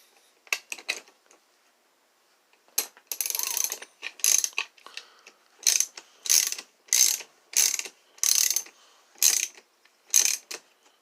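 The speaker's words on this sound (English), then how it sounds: "I need the ratchet now." A hand ratchet clicks in repeated rapid bursts while working on a Sachs Dolmar 119 chainsaw, loud and close, with steady back-and-forth strokes after a brief pause.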